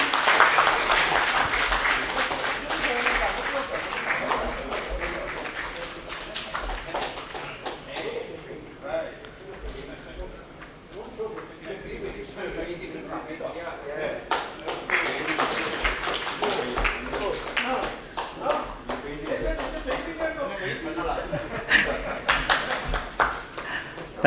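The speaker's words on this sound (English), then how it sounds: "Let's all give them a big applause to him." Audience at a CSI Kerala Chapter prize ceremony applauds a school art-competition winner. The clapping is dense and sustained for over twenty seconds, easing briefly midway then swelling again, with a voice talking over it.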